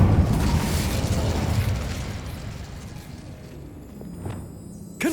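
Incendio fire spell cast in Hogwarts Legacy on PS5, a loud roaring burst of flame that opens strong and dies away over a few seconds, ending in a brief sharp crackle, with no talk.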